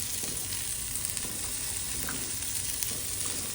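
Fish frying in a pan, a steady close sizzle and crackle with no talking.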